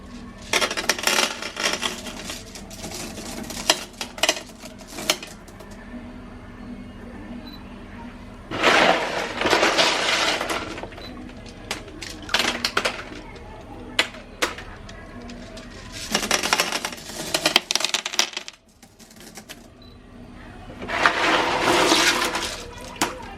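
Small aquarium gravel stones tumble and rattle into a guppy tank in several separate bursts, each a dense clattering pour a few seconds long, close by, with quieter gaps between.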